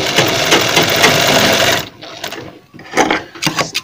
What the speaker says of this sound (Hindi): इस तरह से हम इस पर सिलाई लगाएंगे